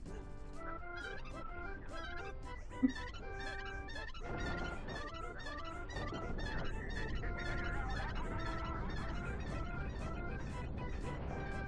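Squawking, honking calls of the chicken-like Oocca creatures from the Zelda: Twilight Princess video game, repeated loudly over a continuous bed of game music.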